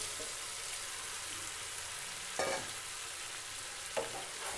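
Shallow-fried chicken pieces sizzle steadily in masala for a village-style Bengali chicken curry, a continuous near hiss broken by two brief stirring scrapes.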